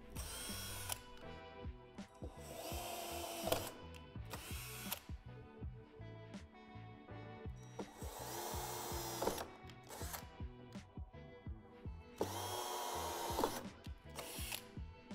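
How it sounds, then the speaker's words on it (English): A power drill with a 1/8 inch bit whines in repeated bursts drilling through the metal of a storage shed door, running hard for a second or two at a time, with quieter mechanical rattling between runs. "take the 1/8 provided drill bit and drill through the divots at the top and bottom of the door"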